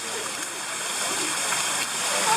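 Spring water flows in a steady, close rush with light splashing and gurgling, a continuous bright wash of water that holds even through the short stretch.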